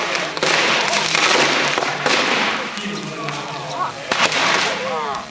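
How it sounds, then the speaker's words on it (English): Sodium chunks tossed into a small lake burst in a rapid series of sharp cracks and pops, layered over a constant noisy outdoor backdrop with a crowd at a party. "So these are sodium explosions also, photographed with special setup."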